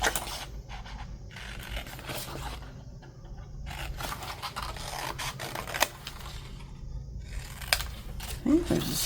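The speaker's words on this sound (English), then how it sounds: "So let's cut out those small tags." Scissors snip out small paper tags for a mini file folder envelope folio, giving soft, irregular cutting and paper rustles up close and fairly quiet.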